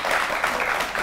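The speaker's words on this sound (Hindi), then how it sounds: "और देश भी ताली मार रही है" Studio audience clapping steadily through a TV debate, a dense patter of many hands that stays fairly loud and even for the whole moment with no voices on top.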